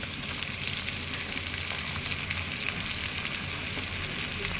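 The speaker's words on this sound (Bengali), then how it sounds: "পেঁয়াজ লঙ্কা কুচনো দিয়ে আমি ভালো করে নাড়াতে থাকবো।" Chopped onion and green chili fry in hot oil while being stirred, producing a loud, even, continuous sizzle close by with faint scraping through it.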